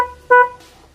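A stock two-way motorcycle alarm converted to a loud horn gives one short, loud honk on unlock, after a faint chirp at the start, with no talking.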